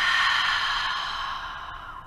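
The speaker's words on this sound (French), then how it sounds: "expire par la bouche" A long, steady breath pushed out through the mouth during a prenatal vinyasa yoga session. It is close and breathy and fades gradually over about two seconds, with no talking.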